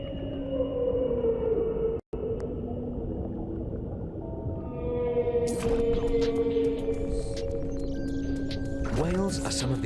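Whale calls underwater, drawn-out tonal moans and rising whoops layered over a steady ocean hiss, continuing throughout at a fairly strong level with a brief dropout near the start.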